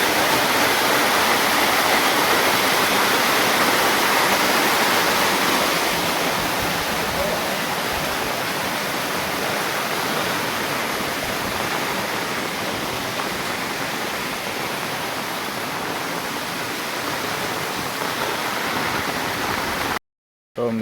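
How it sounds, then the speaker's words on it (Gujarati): Heavy rainwater pouring off a flat rooftop in a flooded village during torrential rain, a loud continuous rushing splash that holds steady throughout and cuts out abruptly near the end. "હા જો અમારે પાણી આવે ધાબા ઉપરથી।"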